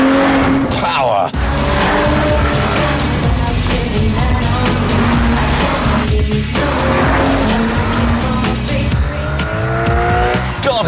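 An Aston Martin DB7 engine revs hard and accelerates, with tires squealing and skidding through corners, loud and close, continuous throughout.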